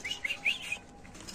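Pigeons flap their wings at a bird market stall, a few quick fluttering bursts with faint chirps, close and fairly soft, over a quiet background.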